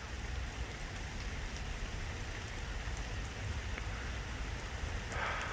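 Steady rain falls throughout, a dense continuous hiss with scattered drops, close and fairly loud, with no voices.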